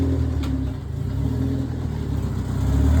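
A car engine running on a Haltech ECU during ignition timing setup hums steadily and loudly at a held speed, a low, even drone with slight swells throughout.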